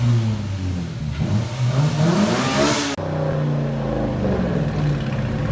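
A loud, raspy 5.7 HEMI V8 in a 2018 Dodge Charger revs hard and drops back, the straight-pipe exhaust with resonator and muffler removed roaring up and down twice in quick bursts, close by.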